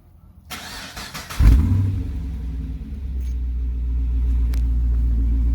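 A 2013 Holden VF SSV 6.0L V8 with DG Rapid Pipes aftermarket exhaust cranks and fires up with a loud burst, then settles into a deep, steady idle rumble.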